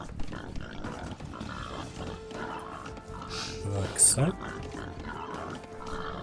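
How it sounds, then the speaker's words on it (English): A boar grunts and squeals briefly near the middle, set among Age of Empires II game sounds and background music, while someone talks over it. "So the boar's going to come in now"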